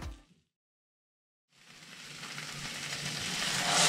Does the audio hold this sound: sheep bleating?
no